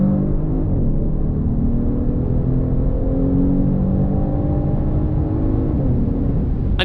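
Genesis G70 sedan's 3.3-liter twin-turbo V6 pulls steadily with a smooth, harmonic drone whose pitch climbs gradually under constant loud cabin rumble, alone with no talking.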